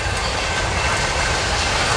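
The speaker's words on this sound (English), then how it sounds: "CVSR, train number 16, northbound, mile 57." A CVSR train rolls by in Boston Heights, Ohio, with a steady, close rumble of wheels and cars that holds constant and fairly loud throughout.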